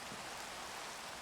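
Steady rain in Minecraft, a soft continuous hiss with no breaks, faint and even throughout the short stretch.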